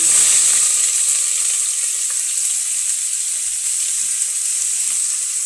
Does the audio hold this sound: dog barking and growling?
no